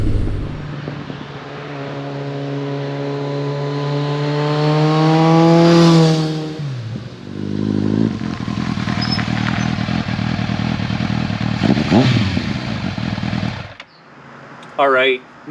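Kawasaki ZRX1100 retro motorcycle ridden hard, engine revving up through the gears with rising pitch, dropping on shifts, then loud throttle blips and a burst of revs before cutting off, wind noise throughout.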